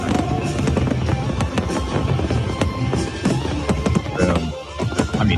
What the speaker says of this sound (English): It's hard for my brain to process the number of fireworks that are going off.